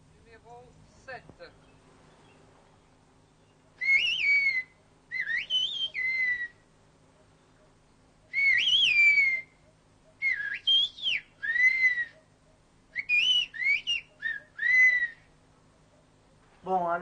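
Pyrenean whistled language performed in an anechoic chamber, a series of loud, piercing modulated whistles in short phrases separated by pauses, with brief speech at the start.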